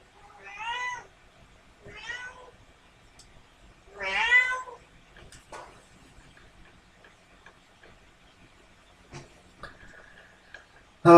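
A pet cat meows three times in close succession, clear and near, followed by soft ticking and small household clatters with no talk.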